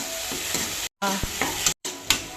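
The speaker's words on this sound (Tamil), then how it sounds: "வெங்காயம் கருவேப்பில போட்டு கருவை வறுக்கணும் மசாலா போட்டு கிளறி எடுக்கணும்" Onions, curry leaves and masala frying in a pan while being stirred for rasam, a close, steady sizzle broken by scraping strokes of the spoon.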